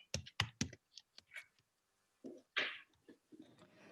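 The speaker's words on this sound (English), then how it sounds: "I'm typing my email in the chat." Someone types an email on a computer keyboard, quiet close clicks in uneven bursts with short pauses between keystroke runs.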